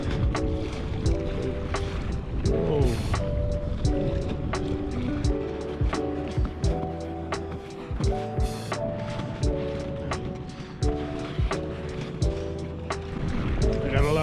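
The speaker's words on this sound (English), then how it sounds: "you gotta take these little waves head on" Small lake waves slap against a Recon 120 fishing kayak during a paddle on Lake Pleasant, splashing and thumping at close range with steady wind and water noise, while a voice briefly exclaims.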